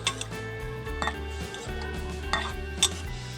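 A utensil stirring prawn gravy with lemon leaves in a metal pan gives close, repeated scraping and clinking knocks against the pan over a low steady hum, with no voices.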